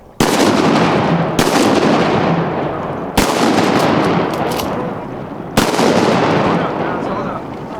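Loud, close shotgun blasts during a January duck hunt, four sharp reports spaced a second or two apart, each trailing into a long rumbling roll of wind and field noise.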